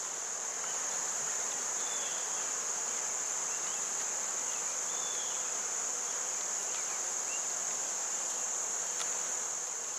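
Honey bees buzz steadily and thickly around an open hive throughout, a constant dense drone with occasional individual bees passing close by.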